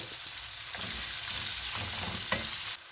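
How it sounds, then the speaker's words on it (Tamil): Steady sizzling of onions frying in oil previously used to fry anchovies, with occasional stirring scrapes and clinks, continuous and close, ending abruptly. "நான் நெத்தாளி பொரித்த எண்ணெயிலேயே வந்து வெங்காயத்தை பொரிக்கிறேன்"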